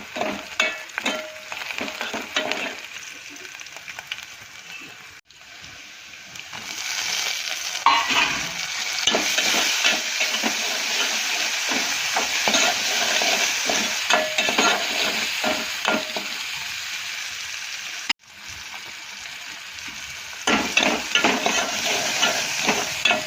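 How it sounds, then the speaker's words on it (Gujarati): Ginger garlic paste and onion frying in a pan for Gujarati giloda (ivy gourd) shaak, with steady sizzling and repeated spoon stirring scrapes, loud and close, a brief pause midway before the frying resumes. "આદુ લસણની પેસ્ટ ને ડુંગળી બધું સરસ શેકાઈ જાય પછી ટામેટાં નાખી દઈએ આપણે।"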